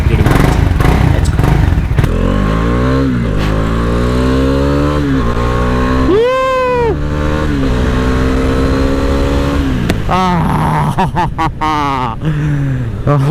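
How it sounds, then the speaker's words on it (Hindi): A motorcycle engine running and revving continuously up close, a loud throbbing drone with rising and falling pitch, blips of throttle toward the end. "अभी नीचे चलते हैं, बाइक स्टार्ट करते हैं"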